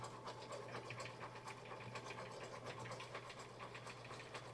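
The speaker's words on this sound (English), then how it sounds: "So now it's going to do a placement stitch for me." Brother Stellaire 2 embroidery-only machine sewing a placement stitch for batting on a table runner, a faint steady mechanical hum with rapid rhythmic needle ticking throughout.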